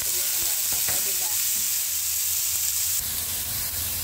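Tomatoes tipped into a frying pan of sautéed mung beans, a loud steady sizzle with a few clattering stirs, and the hiss shifts in tone partway through as the pan settles.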